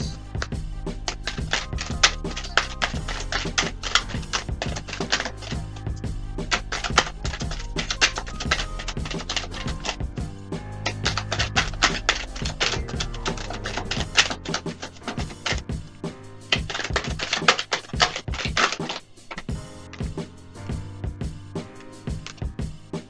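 Tarot cards are shuffled close up in rapid, continuous riffles and clicks, a dense crackling patter that runs steadily throughout, with no voices.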